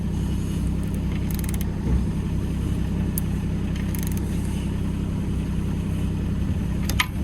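An engine idles steadily and evenly nearby after an exhaust leak repair, a continuous low mechanical rumble with light ticking and clatter on top, no exhaust blowing, no voices.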